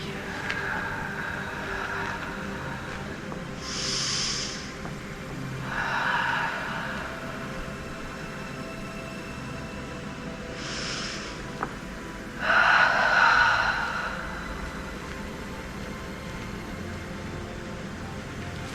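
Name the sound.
deep breathing during gentle exercise, inhaling and exhaling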